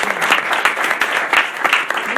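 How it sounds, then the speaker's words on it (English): An audience at a board of education meeting applauds its board members, with dense, close clapping that pulses in small swells and holds loud throughout. "I think they all deserve a round of applause from the audience"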